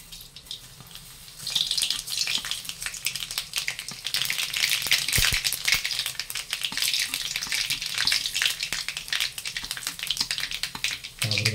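Mustard seeds and dried red chilies sizzle and crackle in hot oil, a steady close frying hiss that swells after the first second and continues with small pops and a brief clatter near the end.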